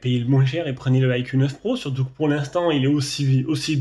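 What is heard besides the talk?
No everyday noise stands out behind the speech.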